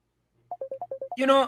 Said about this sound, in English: Right, my phone ringing.